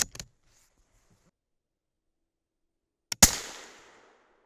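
A 6.5 Creedmoor rifle loaded with Vihtavuori N160 powder goes off in a hang fire. A short sharp click comes first, then a long silent gap of about three seconds, then one loud crack with a decaying tail.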